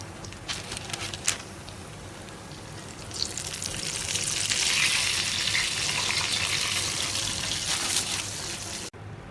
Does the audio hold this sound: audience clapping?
no